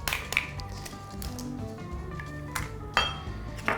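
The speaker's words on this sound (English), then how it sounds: "I take my eggs, 6 of them as per the recipe, and I break them into another bowl." Eggs, six in all, cracked one after another into a bowl in a home kitchen, giving scattered sharp clinks and taps of shell on the rim over a low background hum, with no talking.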